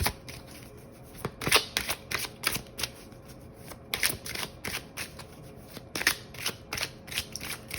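Oracle cards shuffled close up in quick, repeated riffling bursts with short gaps between them, crisp and papery, and no one speaking.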